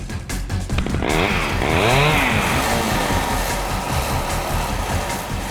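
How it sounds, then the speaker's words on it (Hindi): A recorded motorbike engine buzzes loudly with a harsh, rasping tone, sweeping up and down in pitch through a few throttle changes before settling into a rough, steady drone, with no voices. "रुको, हम तुम्हें कुछ बाइक्स की आवाजें सुनाएंगे।"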